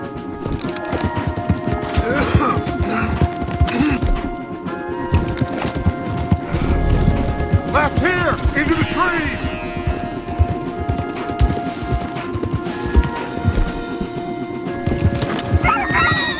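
Horses clip-clop at a gallop in Red Dead Redemption 2 with a whinny breaking through, set against dense music and action noise that stays loud throughout.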